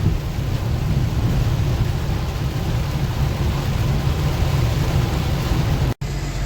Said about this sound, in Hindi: बहुत ही भयंकर बारिश है।